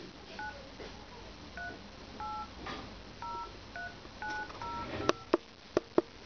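A telephone is dialed by hand, giving a series of short paired keypad tones in an irregular rhythm, fairly faint and close, followed by several sharp clicks near the end.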